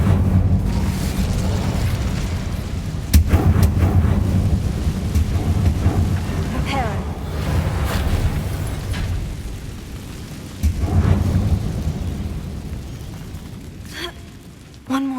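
Incendio fire spell cast in Hogwarts Legacy on PS5, a loud rumbling burst of roaring flame and low booming that swells and sustains for several seconds, with further blasts and crackling effects following.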